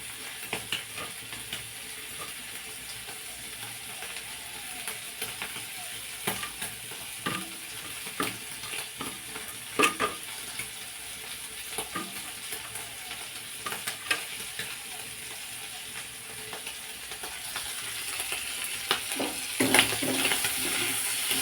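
Prawns fry in mustard paste in a pan, a steady sizzle running throughout with scraping stirring strokes coming at irregular intervals, the sizzling growing a little louder toward the end.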